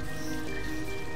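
Water in the video game Portal 2 makes a continuous, fairly loud patter and splash like rain on a surface, heard steadily with no voices over it.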